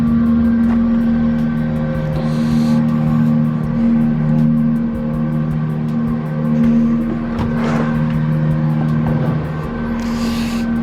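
A Nissan 370Z Nismo with a muffler delete idles loudly, its exhaust giving a deep, steady drone with slight swells and a brief rev-like rise near the middle.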